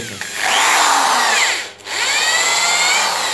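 Electric drill machine running at speed on a home bench while its current draw is checked on a digital ampere meter, a loud steady motor whine with a brief dip in pitch and volume near the middle before spinning back up.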